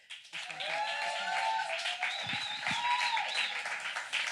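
An audience at a poetry reading breaks into sustained applause, a dense steady wash of many hands clapping with a few whoops and cheers rising above it.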